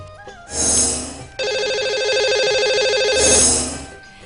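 A telephone rings on a talk show as a caller joins the line, a loud repeating electronic ring tone that swells, breaks briefly, then continues steadily with no talk over it.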